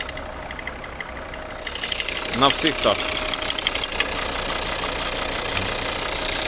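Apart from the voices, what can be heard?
diesel car engine running under open bonnet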